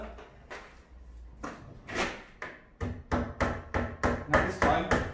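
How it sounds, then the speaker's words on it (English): A wall plug is driven into a drilled hole in a wall with a hammer to fix timber, heard as a series of sharp, close knocks that speed up into a steady rhythm of about ten blows. "So wall plug in, hammer."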